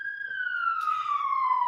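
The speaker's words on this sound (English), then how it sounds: "I've got a siren going by." An emergency vehicle siren passes outside with a single long, steady tone that slowly falls in pitch, clear and fairly loud against quiet.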